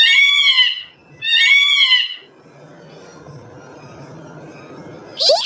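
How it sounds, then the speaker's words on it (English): A peacock calling: two loud, harsh, wailing cries in quick succession, each about a second long, followed by a quieter rustling stretch and the start of another sharp cry at the end. "Peacock."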